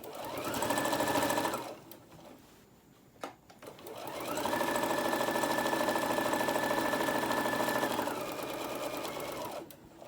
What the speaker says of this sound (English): I like to back stitch over my straps